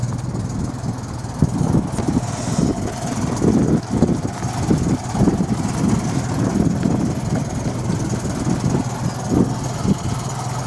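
A 1950 MG TD Midget roadster ticks over, a steady, fairly loud idle with a light, rapid rhythmic beat throughout and no voices.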